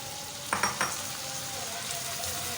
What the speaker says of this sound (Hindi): जो हमने चने लिए में बॉयल करके वो डाल दें।